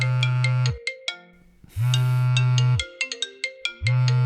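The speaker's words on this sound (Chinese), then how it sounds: "关键电话来了，等我接完这个电话，结果就知道了" A mobile phone rings for an incoming call with a loud melodic ringtone that plays in repeating bursts of bright tones, separated by short pauses, with no voices.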